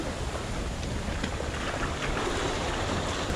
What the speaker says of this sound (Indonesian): Ombaknya mantap.